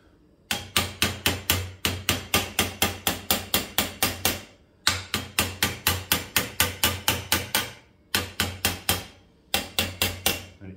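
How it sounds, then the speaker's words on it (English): A hammer taps the exhaust pipe of a 1965 Matchless G12 CSR motorcycle to close a gap, ringing metallic blows in three quick rhythmic bursts, each of several close, evenly spaced strikes, loud and near. "I need to look for a hammer"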